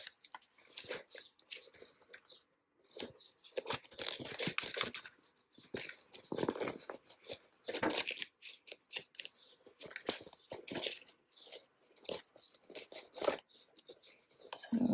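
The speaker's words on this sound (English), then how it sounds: "Trim these down, and then trim it down to 1/4 of an inch." Scissors trim the fabric binding of a crossbody sling bag, a run of short crisp snips and rustles up close, in irregular bursts with brief pauses between cuts.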